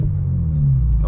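A single-turbo BMW 335i engine holds a deep, steady rumble inside the car during a downshift, loud and close, with a faint rise in pitch toward the end.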